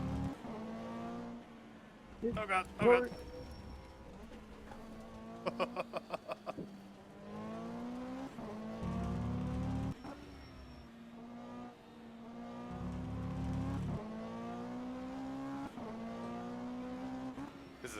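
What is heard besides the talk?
GT3 race car driving at Valencia in video game rFactor 2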